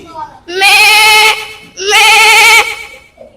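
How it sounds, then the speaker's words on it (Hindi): A black goat bleats loudly twice, two long wavering cries close by, separated by a short pause. "ये सबसे ज्यादा बार पुरजोर जो है इनमें ये हमारा काला बकरा है जी"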